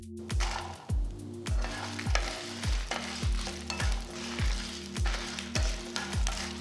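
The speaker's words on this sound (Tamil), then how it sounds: "இப்போ இதில் நம்ம காஞ்ச மிளகா சேர்த்துக்கலாம்." Dried red chillies and large garlic cloves fry in oil for horse gram chutney, with a steady sizzle broken by rhythmic, evenly spaced scraping strokes of a spatula stirring the pan, about two each second.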